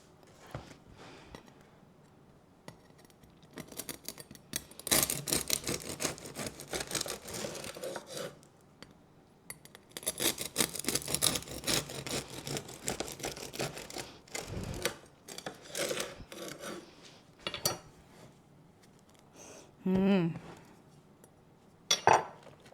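A knife sawing through a loaf of Paderborner sourdough bread, with long rasping strokes through the crust in bursts, close and fairly quiet, followed by a few soft knocks and clinks.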